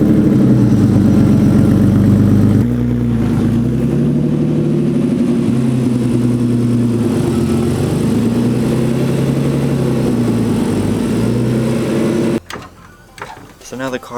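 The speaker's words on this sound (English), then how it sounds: "So let's back the car up into the garage so we can get started." A Nissan 240SX offroad build backs up into a garage, its engine idling and revving unevenly under steady low drone for about twelve seconds before cutting off abruptly, followed by brief clatter.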